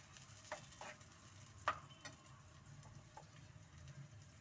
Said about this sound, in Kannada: ಚೆನ್ನಾಗಿ ಹಸಿ ವಾಸನೆ ಹೋಗೋ ತನಕ ಫ್ರೈ ಮಾಡೋಣ.